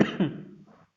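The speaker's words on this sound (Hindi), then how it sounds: "खांसी से थोड़ा प्रॉब्लम हो रहा है।" A man coughs up close indoors during a class, a sharp burst followed by a second rougher hack, then a faint tail fading into silence.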